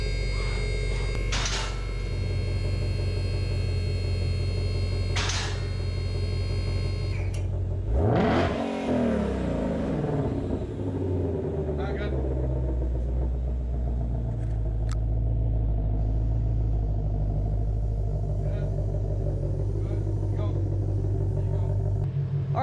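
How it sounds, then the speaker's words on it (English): 2020 C8 Corvette engine idling with a deep steady rumble as the car is raised and lined up on a dyno, with a sharp swell near the middle and a lifting whir. "Now I'm just gonna raise her up. Get her lined up on the dyno."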